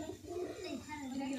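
Pigeons for sale, including Giribaz and Madras breeds, coo with low, wavering, continuous calls rising and falling close by, steady throughout.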